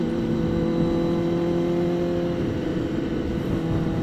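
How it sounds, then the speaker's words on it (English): A motorcycle fitted with a Leo Vince pre-chamber exhaust runs steadily nearby, its exhaust note a sustained raspy growl with layered hum, heard alone without speech. "This has a rasp to it, like a growl, almost like a triple, like a street triple. It's got a similar exhaust note."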